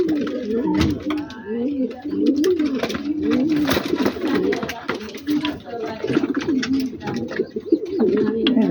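Racing pigeons at a loft coo repeatedly in rhythmic, low, throaty bursts, close and fairly loud, with several birds overlapping and some bird calls mixed in.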